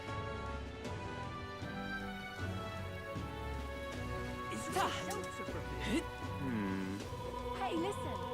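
Steady rain falls in the video game Metaphor: ReFantazio, a constant hiss of drops beneath game music and a voice talking over it.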